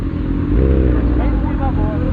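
Two Honda Hornet motorcycles riding on a street, a loud close engine rumble that holds steady with slight revving, with a voice talking over it.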